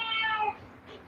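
A pet cat gives a single drawn-out meow, clear and close, and then a short fainter sound follows.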